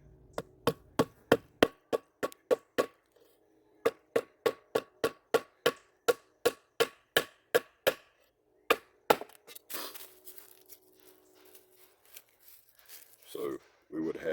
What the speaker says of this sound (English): We're just going to baton straight through here.